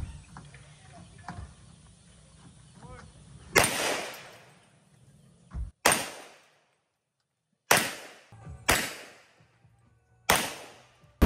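Five sharp, loud gunshots from a Staccato STI Edge 2011 pistol chambered in .40 S&W with a 5-inch match-grade stainless bull barrel, fired one by one at irregular intervals, each cracking hard and ringing off, with faint murmuring before the first.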